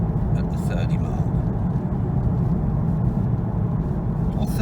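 A Porsche 911 with a PSM fault cruising in third gear around 30, a steady, close low engine drone and road rumble with no revving, while a voice talks over it.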